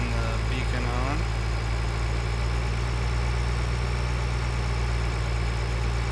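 A tractor engine in the video game Farming Simulator 2013 idles at a steady, loud, droning hum with constant low vibration, while a voice speaks briefly near the start.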